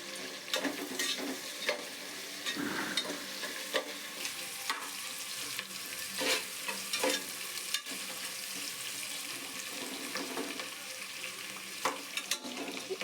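Three thick-cut onions and four green chilies frying in a pan for chicken biryani, a steady close sizzle with a spoon scraping and stirring at irregular intervals, no voices.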